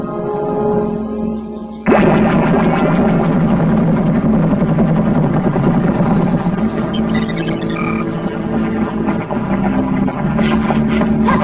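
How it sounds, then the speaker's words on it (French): A loud, steady helicopter rotor thrum fills the scene, swelling suddenly and holding a dense, continuous chopping drone nearby. "Je vous envoie tout de suite l'hélicoptère."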